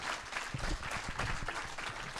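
An audience at a French school heritage event applauds a student production about 1914–1944: steady, diffuse clapping from a room of people, soft and continuous.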